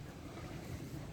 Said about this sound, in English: abnormal sound is coming from this chain